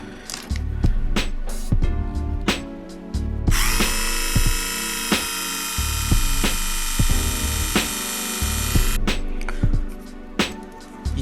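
A file scrapes resin parts of an SD Gundam model kit frame in a rapid series of close, rasping strokes, with a steady high mechanical whine running through the middle stretch.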